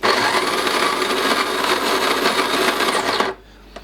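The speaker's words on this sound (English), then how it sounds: "So then it's just a simple matter of turning it on and it will grind." Coffee beans running through a grinder for home espresso, a loud, continuous whirring grind that holds steady for about three seconds and then cuts off abruptly into near silence.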